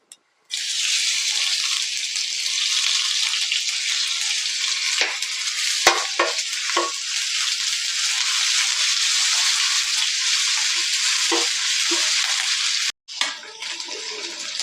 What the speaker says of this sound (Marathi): आता हे छान परतून झालेले आहे आलं लसूणची पेस्ट पण चांगली तांबूस झालेली आहे